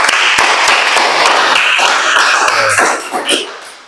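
A group of people applauds for a team in a classroom presentation, dense continuous clapping that fades out toward the end.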